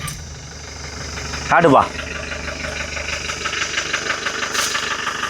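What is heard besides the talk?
Mahindra Bolero engine started and idling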